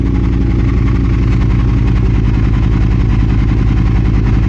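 A 2022 Triumph Speed Twin fitted with an X pipe idles high in warm-up mode, a loud, close, steady throbbing exhaust pulse with an even rhythm and no talk over it.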